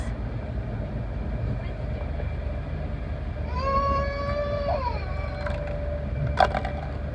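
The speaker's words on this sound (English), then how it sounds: "The nightmare of crying babies continues as we close in onto London" A baby wails aboard an LNER train heading into London, a rising, stretched cry lasting about two seconds over steady rolling rumble, followed by a brief sharp knock.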